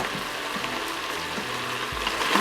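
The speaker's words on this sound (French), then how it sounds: "on va ajouter l'oignon, l'ail et le gingembre. Donc là, vous faites revenir" Onion, garlic and ginger sautéing in a Moulinex Cookeo multicooker, a close, even sizzle with faint stirring scrapes over about two seconds, no talking.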